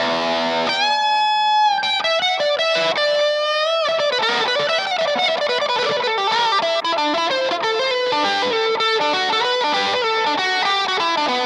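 Distorted electric guitar from a Fender Vintera 70s semi-hollow Telecaster with humbuckers plays a melodic line with sustained notes, washed in reverb and echoing delay, loud and continuous with no talking.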